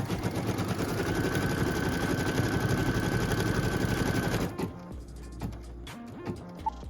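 A sewing machine stitching fabric down, a fast steady mechanical whir with rapid needle ticking for several seconds, then it stops and leaves a few faint handling clicks.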